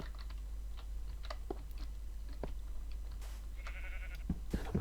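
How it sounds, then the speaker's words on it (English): Minecraft sheep bleating, a short wavering bleat near the end amid scattered keyboard and mouse clicks over a low constant hum. "Hello, sheep"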